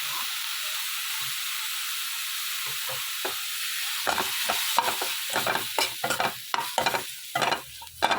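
Tomato and onion fry with mustard seeds, chili powder and salt in a pan, giving a steady sizzling hiss. Irregular scraping stir strokes grow louder and more frequent in the second half.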